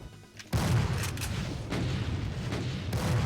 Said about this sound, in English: So it's a multi-barreled flat cannon.